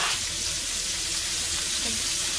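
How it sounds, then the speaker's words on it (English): Vegetables sautéing in a hot pan give a dense, steady hiss of sizzling that fills the whole moment, loud and close with no voices. "now I'm going to saute the veggies in that same pan"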